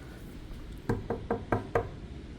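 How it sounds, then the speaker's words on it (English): Knocking on a door at Santa Monica City Hall, five sharp, evenly spaced raps over a steady background hum, moderately close, with no talking. "Knocking on the door."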